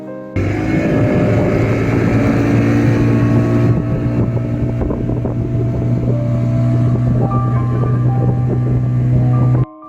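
A motorboat crosses the lake at Maithon between islands, its engine a loud, steady close drone mixed with wind buffeting the microphone, stopping abruptly at the end.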